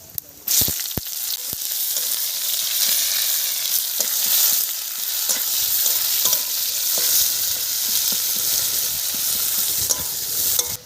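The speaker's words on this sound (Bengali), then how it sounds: "তেল গরম হয়ে গেছে দিয়ে দিচ্ছি শুকনো লঙ্কা ফোড়নে দিয়ে দেব জিরে ফোড়নে দিয়ে দিচ্ছি" Loud, continuous sizzle of dried chillies and cumin frying in hot oil, crackling steadily throughout with a few sharp pops and clicks of stirring near the start.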